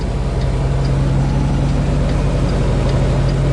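A truck engine idles with a steady low rumble, continuous, smooth and even, with no voices over it.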